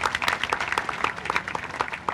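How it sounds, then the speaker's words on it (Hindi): A crowd applauds in welcome at a village gathering on khap panchayat justice, dense clapping from many hands spread evenly and steady, with no talk over it. "तालियां बजा के स्वागत करो"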